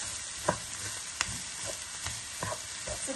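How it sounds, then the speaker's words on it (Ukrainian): Grated frozen carrots being stirred into frying onions in a pan, a low continuous sizzle with scattered scraping taps of a spatula, close and fairly quiet. "Потерти на крупну тертушечку і додаємо до цибульки і все разом перемішуємо"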